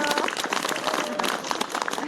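Dense audience applause fills the outdoor celebration for a new priest's ordination in a church courtyard, a continuous patter of many hands clapping at close range with a voice speaking over it.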